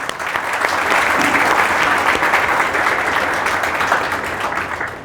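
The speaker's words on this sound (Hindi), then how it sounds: "तो एक बार इसके लिए सबकी तालियां होनी चाहिए।" An audience at a youth festival talk on the Vedas breaks into loud, sustained applause. Dense, even clapping fills the whole stretch and eases slightly at the end.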